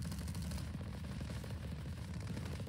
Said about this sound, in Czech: Až je po mně ještě něco střílí